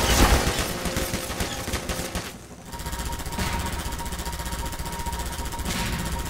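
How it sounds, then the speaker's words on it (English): Explosions and rapid gunfire in Half-Life 2, a loud, dense rattling barrage that drops away briefly near the middle before resuming as a steady, heavy roar with repeated bursts. "Keep hearing things explode."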